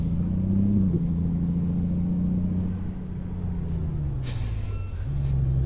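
An International Prostar semi truck in American Truck Simulator, its engine droning loud and steady as it climbs through the gears, pitch rising and dropping at shifts, with a brief hiss of air.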